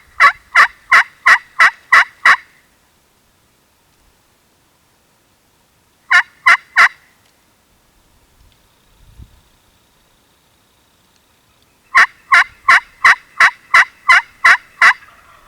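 Wild turkey gobbles in bursts of rapid, repeated notes, answering a slate call during a North Dakota turkey hunt; three clear volleys separated by quiet pauses, fairly close and loud in open outdoor air.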